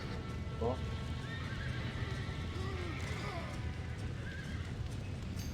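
Horses neigh and whinny in Red Dead Redemption, with a steady clatter of hooves beneath, all set against a dense, continuous background rumble.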